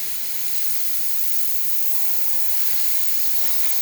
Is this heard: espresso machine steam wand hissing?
yes